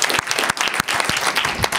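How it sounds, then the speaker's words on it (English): Audience at a Sunday morning assembly applauding for anniversaries, dense steady clapping from a crowd, loud and close, brief burst. "we're gonna clap for the anniversaries"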